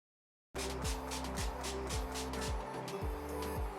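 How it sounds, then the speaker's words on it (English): Steady mechanical rumble of a washing machine running, with a regular thumping cycle and rattling, after a brief silence at the start. "That's the sound of a washing machine about to explode."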